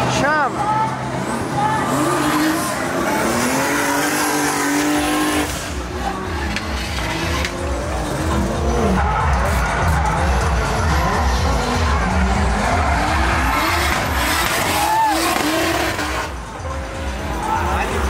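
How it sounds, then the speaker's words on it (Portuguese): A drifting car on a course, engine roaring and revving loudly with sliding, squealing tire tones sweeping up and down, while voices chatter over the noise throughout. "Mas lá tá vindo o drift lá"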